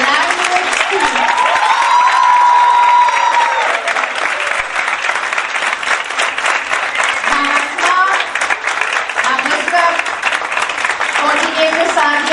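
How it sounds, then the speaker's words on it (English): A workshop audience at a Montessori teacher training session gives a big round of applause for the language team, loud and sustained clapping from many people that runs throughout, with voices and cheering mixed in. "a big round of applause for the language team"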